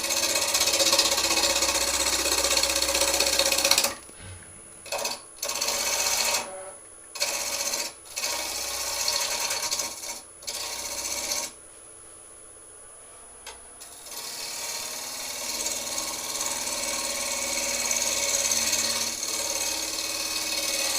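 A gouge cutting an Easter egg on a wood lathe gives a loud, rough, continuous scraping hiss. It breaks off in several short pauses and one longer silence, then resumes steadily.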